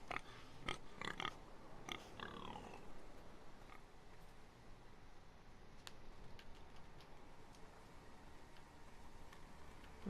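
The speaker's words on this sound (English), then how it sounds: "Pig." Pig in the Game of Thrones video game, Iron from Ice episode, grunting and oinking in a few quick snorts early on, then quiet ambience with faint ticks.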